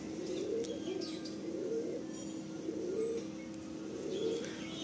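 Madrasi Andhra pigeons coo in soft, repeated rolling calls at a steady rhythm, fairly close but quiet, with faint chirps and small background noises between the coos.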